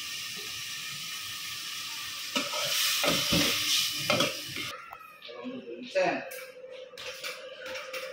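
Fish dropped into a hot pan for a home-cooked afternoon snack sets off a loud, steady sizzle of frying with stirring and clattering of utensils on the pan, while people talk nearby.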